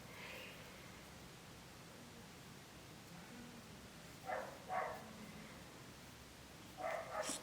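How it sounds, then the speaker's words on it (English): Neighbors' dogs bark faintly in the background, heard as a few distant single barks and then a short double bark toward the end over a quiet, hissy room. "Sorry if you hear the dogs in the background"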